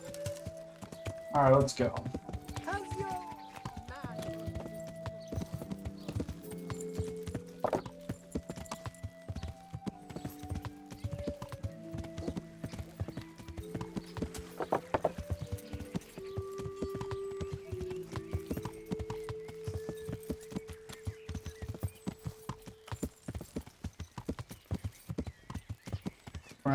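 Horse hooves clip-clop in the Kingdom Come Deliverance video game, a steady rhythmic trot of sharp clops running throughout under tonal music, with a brief whinny and someone speaking early on.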